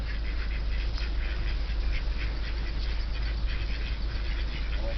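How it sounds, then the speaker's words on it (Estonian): Ducks at a pond in Rapla quack faintly and intermittently against a steady low hum of background noise while being fed. "Tulge siia pardid"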